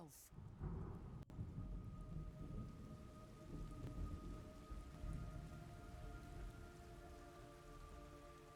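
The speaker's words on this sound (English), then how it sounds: "It's raining blood." Heavy rain hisses steadily in a Metal Gear Solid Delta: Snake Eater game scene, with a sharp thunder crack near the start and low rumbling beneath the downpour, fairly quiet overall.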